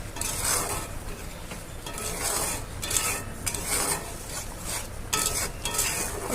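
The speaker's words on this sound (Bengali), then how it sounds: "এটাকে এখন আমি ভালো করে কষিয়ে নেব" Spice paste stir-fried in a pan with a little water for a Bengali fish dish, a ladle scraping and clattering against the metal in uneven strokes over a soft sizzle, close and fairly loud.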